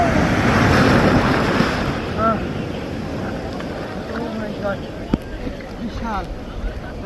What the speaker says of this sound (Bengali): বিশাল আকারের ঢেউ